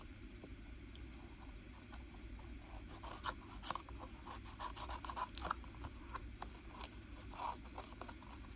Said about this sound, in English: we'll just cut the excess off the back